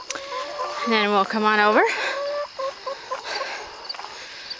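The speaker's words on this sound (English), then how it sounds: "My girls are doing such a wonderful job making compost and just being good little hens." Backyard hens cluck in a short run of rising, wavering calls over a steady background hiss, while a person speaks nearby.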